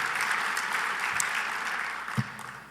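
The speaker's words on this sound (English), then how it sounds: "You can clap for Bob Hart." Attendees at a bowling convention annual meeting applaud a bowler's milestone with steady, moderately loud crowd clapping that continues evenly for a few seconds, a single thump standing out near the end.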